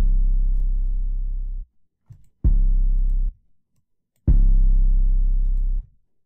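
Three long, clean 808 bass notes with no effects play one after another with short gaps, each booming low and ending sharply, with faint clicks between.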